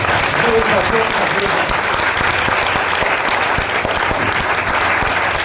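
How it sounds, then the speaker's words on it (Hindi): A church congregation at a Hindi-language evening worship service claps loudly and continuously, a thick, sustained wash of hands close by, with a voice faintly audible beneath it. "जोरदार तालियां बजाएंगे।"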